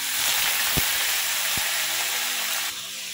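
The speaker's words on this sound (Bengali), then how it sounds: "তেল গরম হয়ে গেছে, এবার কেটে রাখা বিট দিয়ে দেব।" Sliced beetroot hits hot oil in a pan, a loud, dense hiss of frying with two brief low knocks. The sizzle drops a little in level near the end, and no one speaks.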